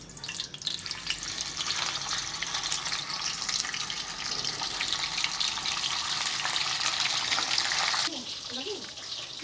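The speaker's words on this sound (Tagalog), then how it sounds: "Prito time, bangus naman." Milkfish (bangus) fries in hot oil with a steady, dense sizzle that stays loud and close throughout. Near the end the sizzle drops slightly and a few faint clinks sound.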